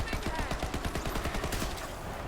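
Rapid automatic gunfire from The Eruption weapon in a Borderlands-style looter shooter, a steady stream of close, punchy shots in a fast even rhythm lasting about two seconds.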